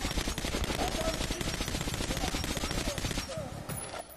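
Continuous rapid gunfire from the Metro Last Light video game, loud and dense for the whole stretch, with faint voices mixed in beneath the shots.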